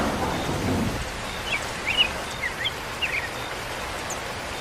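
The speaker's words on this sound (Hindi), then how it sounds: "अरे ये लो, बारिश शुरू हो गई।" Rain and thunder in a cartoon about a crow and a duck: a rumble of thunder opens, then steady rainfall continues, with light chirping bird-like calls scattered on top.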